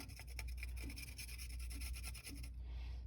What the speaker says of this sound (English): Just grating a little bit more fresh ginger.